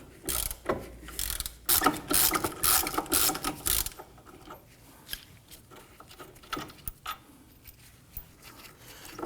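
Ratchet loosening the brake caliper bracket bolts on a 2015-2024 Nissan Murano: rapid, close clicking in several loud bursts, then quieter scattered clicks with no talking.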